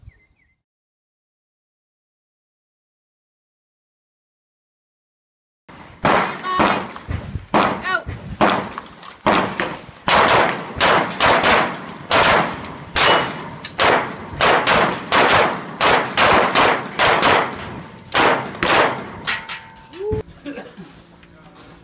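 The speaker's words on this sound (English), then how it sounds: "I accepted your challenge, man versus man, on the pistol shots." Rapid sequence of sharp pistol shots at targets during a man-versus-man pistol challenge between military special tactics airmen, dozens of loud cracks in quick rhythm after a few seconds of silence.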